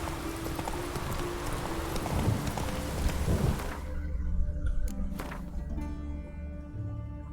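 Roach the horse's hooves clip-clop in a steady trotting rhythm in The Witcher 3, close and clear against a soft rain-like background, with a brief thud near the end.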